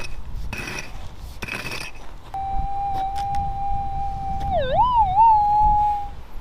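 A metal detector sweeps over buried lead shot and gives a steady, loud signal tone that holds, then wobbles and warbles before settling again, after some brief rustling and digging noises at the start.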